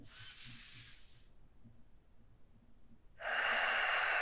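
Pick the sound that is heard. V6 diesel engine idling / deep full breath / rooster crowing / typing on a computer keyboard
deep full breath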